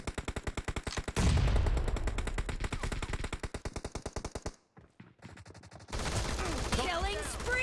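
A P90 fires in a PUBG Mobile team deathmatch, with fast regular automatic bursts, one long sustained volley, a brief pause, then more shooting amid loud game effects.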